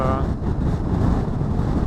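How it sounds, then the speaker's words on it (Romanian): Strong wind buffets the microphone during a motorcycle ride on a country road in Denmark, a loud continuous low roar mixed with engine and road noise. "Aici ce bate vântul. Ce rafale îi dă."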